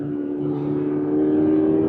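A 2025 Toyota GR86 Hakone Edition engine revs up steadily toward its 7,000 RPM redline, a loud, rising mechanical tone heard close and alone for about two seconds.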